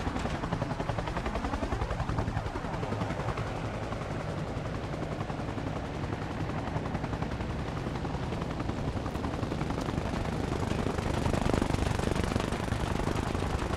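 A helicopter in the video game Arma Reforger sets down on a helipad, its rotor chop a loud, continuous rapid thudding that fills the whole stretch with dense engine roar.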